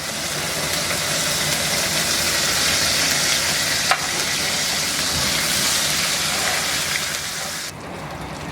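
Onion paste and ginger-garlic paste fry in a pan with a dense, steady sizzle that crackles on for several seconds. One brief knock lands partway through, and the sizzle drops away sharply near the end, with no talking over it.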